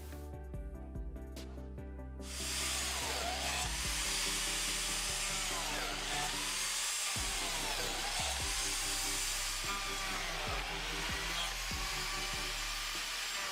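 A power biscuit joiner cuts slots into wooden side trim boards for a wall-mounted folding desk, its motor whining loud and steady for about eleven seconds after a brief quieter start.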